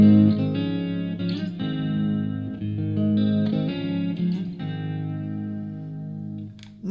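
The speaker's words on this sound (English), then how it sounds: "Add in the reverb. That right there is our core tone." Electric guitar core tone with pitch-shifted modulated delay plus reverb, a run of sustained chords and notes blooming into wet, washy tails, steady and close, fading toward the end.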